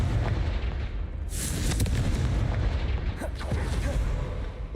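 A Confringo fire spell bursts in Hogwarts Legacy with a sharp, loud blast, then rumbles amid continuous battle noise and more impacts, and a voice is heard briefly.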